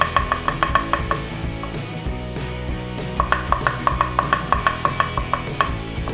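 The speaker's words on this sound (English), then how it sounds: "Be generous with the garlic." Garlic chopped with a knife on a cutting board in a kitchen, quick rhythmic bursts of crisp taps in two runs separated by a short pause, close and clear.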